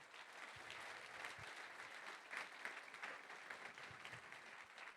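Audience applause fills the room steadily from start to finish, a dense, even patter of many hands clapping at moderate volume, with a few louder individual claps standing out and no speech over it.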